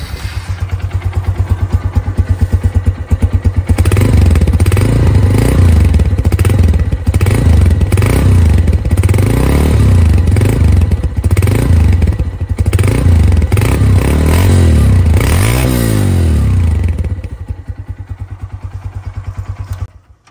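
A Honda CG150 motorcycle engine runs steadily after a self-start, a loud close single-cylinder thrum with mechanical clatter that holds for about seventeen seconds before dropping away.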